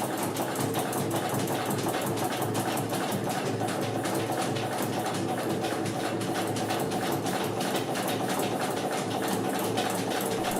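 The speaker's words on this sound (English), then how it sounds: "The MA 218 is a 4-stroke medium-speed diesel engine built with a focus on simplicity and solid mechanical construction." An MA 218 four-stroke medium-speed diesel engine runs with a dense, steady mechanical clatter. The loud, rapid knocking rhythm stays constant and unbroken throughout.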